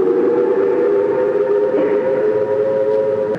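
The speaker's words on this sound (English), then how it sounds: "The sound you're hearing in the background is a regular test of the sirens here at the Capitol." A civil defense siren test at the Capitol wails as one steady, loud, sustained tone throughout, with no voices over it.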